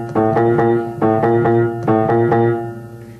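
Piano left hand plays a theme as a repeated pattern of low, resonant chords, struck in even pulses that sustain between each strike, close and loud with no talking.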